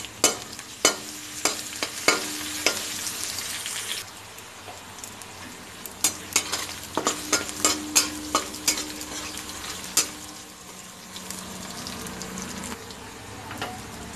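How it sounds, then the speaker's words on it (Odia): Onion and crushed garlic fry in a pan while Odia-style drumstick-leaf mung dal is made, with a steady sizzle under sharp, irregular clacks of a spoon stirring against the pan, close and with no talk. "ପିଆଜ ଅଧା ଲାଲ ହେଲେ ରସୁଣ ଛେଚା ଦେବା"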